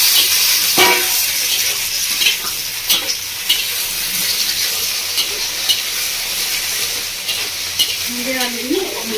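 Okra and potatoes tossed into a pan of sizzling onion and tomato, a loud continuous frying hiss with stirring scrapes and occasional clunks, plus a faint voice murmuring briefly near the end.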